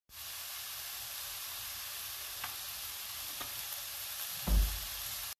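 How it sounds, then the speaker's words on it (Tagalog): Meat and pakbet ingredients toast in a hot pan with a steady, close sizzle and hiss throughout, broken by a few faint scrapes and one brief louder clatter of a utensil near the end. "I-toast muna natin ang ating sahog hanggang matosta siya."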